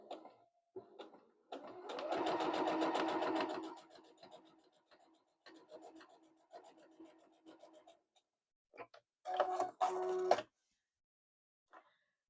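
A sewing machine stitches a new line beside an earlier row of stitching on a handmade gift, running in short bursts with one longer run and gaps between.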